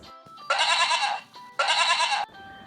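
A farm goat gives two loud, drawn-out bleats, each lasting about a second, separated by a short pause.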